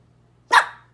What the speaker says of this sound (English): No barking, Ernie.